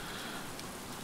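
Steady rain pattering in the survival video game Stranded Deep, a dense continuous hiss of drops with no talk over it.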